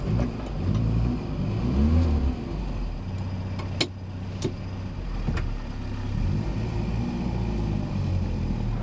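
A Riley Elf classic Mini drives along with its small engine in a close, steady drone that revs up and down, joined by occasional clicks and knocks and no talking.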